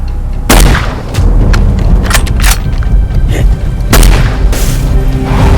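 Movie sniper rifle shots striking a terrorists' armored vehicle, with two loud booming blasts followed by rumbling impacts and crashing debris, close and heavily produced.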